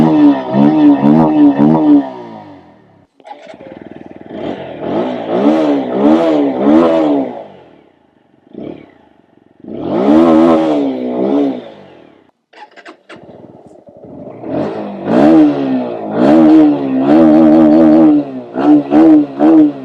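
TVS Apache 160 and Bajaj Pulsar 160cc motorcycle engines rev in turn, loud rising and falling throaty bursts separated by short pauses, close and with no talk.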